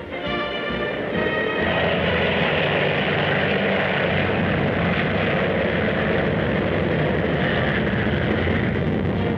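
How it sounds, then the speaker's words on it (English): A P-39 Airacobra propeller fighter plane roars steadily and loudly in flight throughout, a dense engine drone with no pauses or voices. "Army flyers have their first test of marksmanship in this kind of super speedy fighter"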